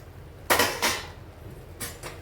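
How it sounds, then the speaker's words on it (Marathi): A metal lid comes off a pot of vegetable pulao with two quick, bright metallic clanks, then a softer clink a moment later, heard up close with no talking. "चला आता आपण झाकण काढून घेऊया."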